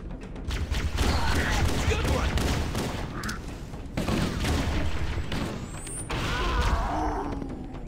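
Gunfire in Halo: The Master Chief Collection, dense rapid bursts and booming impacts filling the whole stretch, loud and close, with a player talking over the shooting.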